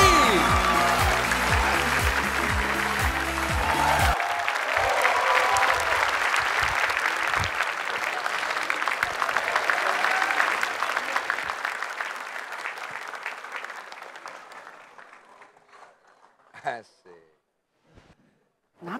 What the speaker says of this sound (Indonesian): Coba tepuk tangan untuk Cassidy!